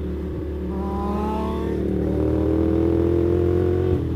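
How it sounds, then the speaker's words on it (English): A Kawasaki Ninja Z1000 motorcycle accelerates hard in second gear on a New York street, its engine note steadily climbing in a loud, continuous, close roar with no speech over it. "You wanna see what a ninja can do in second gear?"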